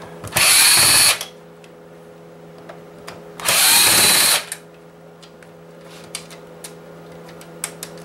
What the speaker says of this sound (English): Get those Phillips screws out.